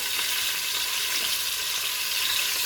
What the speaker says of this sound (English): Now I cook the meat in the same oil.